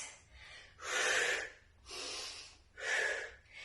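Slow, deep breaths drawn in and pushed out audibly during a seated fitness exercise for older adults, three long airy cycles close to the listener, with quiet pauses between.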